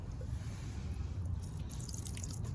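Fuel dripping from the fuel line of a 1990 Yamaha Banshee, a steady run of close, wet drips and small splashes over a low background rumble, with no talking.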